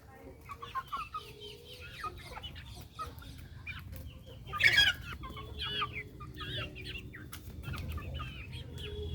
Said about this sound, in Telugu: వీటిని బెర్స జాతి కోళ్ళు అంటారు అనమాట.